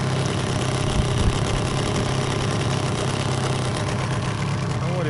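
A Gladiator 9.9 outboard boat motor runs at low throttle during break-in, a steady, close, droning idle with a knocking undertone and no talk.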